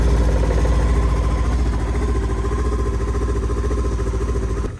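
A 2022 Ski-Doo Tundra 600 ACE snowmobile engine idles loudly and steadily up close with a low, throbbing rumble and faint clatter, idle rising in sport mode, holding a rough, even pitch before it cuts off at the end.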